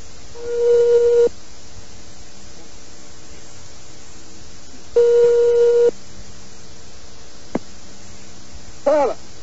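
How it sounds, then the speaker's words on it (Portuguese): Two long steady telephone line tones sound on a dialed call, each cut off abruptly, with a short click and a faint warbling tone near the end against light static. "Vamos ligar de novo."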